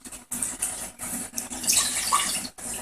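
Water is poured for a lard-based pastry dough, a splashing, gurgling stream broken by short pauses, close and moderately loud, with no voices.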